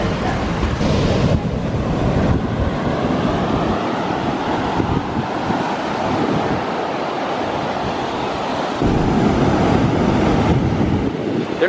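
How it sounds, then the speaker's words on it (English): Large ocean waves crash and roll onto a Hawaii beach, a loud, continuous surf roar with swelling surges and gusty wind buffeting the microphone, with no talking. "The waves are so big today"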